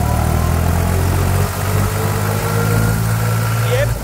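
A New Holland 3600-2 tractor engine runs steadily at a mid-pitched drone with a low hum, close and continuous, and a brief dip in loudness partway through.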